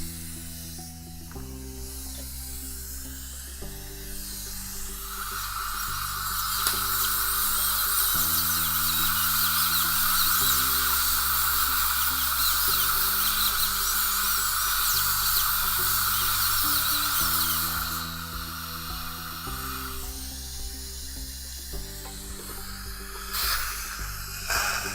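Dental drill trimming excess composite off a tooth during a restoration, a steady high-pitched whine held for about twelve seconds over a background of faint rhythmic mechanical noise, nearby and moderately loud.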